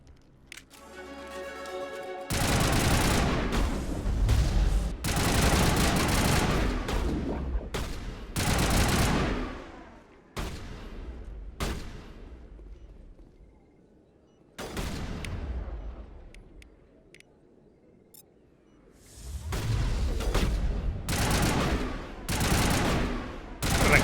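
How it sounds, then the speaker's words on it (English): Gunfire in Mass Effect Legendary Edition comes in several loud, close bursts of rapid shots separated by quieter pauses with fading echoes. "Shot him in the head, no hole. Amazing gun."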